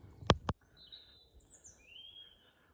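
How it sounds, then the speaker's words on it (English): Birds chirp outdoors after two sharp loud knocks at the start, their thin high calls sweeping in and out faintly over low background noise. "Birds know what's up, don't they?"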